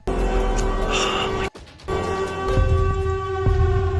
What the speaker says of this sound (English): That's the Siren Head sound.